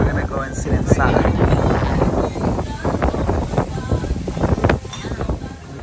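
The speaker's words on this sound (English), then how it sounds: "But it's so windy, so we're gonna go and sit inside." Wind gusts into the microphone at an outdoor restaurant in Baltimore, a loud, continuous rumbling buffeting with no pauses.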